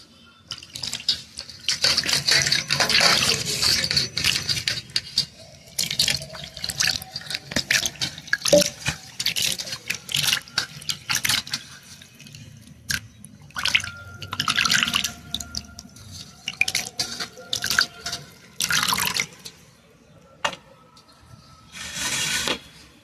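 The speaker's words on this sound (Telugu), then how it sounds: "ఇంకో 2 సార్లు మామూలు నీళ్ళతో కడిగేసేసి మనం ఇక మెత్తళ్ళు వంకాయ కూర చేసుకున్నాం" Dry fish being rinsed by hand in plain water, with continuous splashing, sloshing and dripping, busy in bursts and pausing briefly, close and moderately loud.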